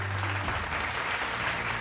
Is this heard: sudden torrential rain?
no